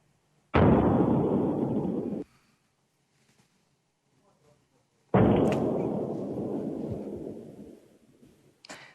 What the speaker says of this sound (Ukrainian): Якщо ми можемо власне показати зі звуком потужності вибуху, то прошу ці кадри зараз продемонструвати.